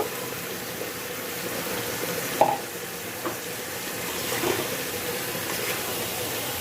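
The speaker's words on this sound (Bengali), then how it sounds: "আমি এখন মুসুরির ডালগুলি দিয়ে দিব" Soaked red lentils dropped into sizzling spices in a pan, a continuous soft frying hiss with a sharp clatter as they go in and occasional stirring scrapes, nearby and unaccompanied by speech.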